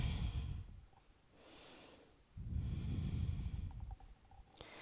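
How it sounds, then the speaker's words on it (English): During a yoga session, a slow deep breath drawn in through the nose, then released and taken in again, close and audible with a soft rushing quality, no speech over it. "Big deep breath through the nose"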